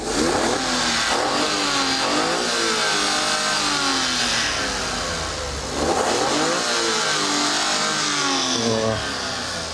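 A minivan engine revs hard, its pitch climbing and falling in two long surges, loud and close with no talking.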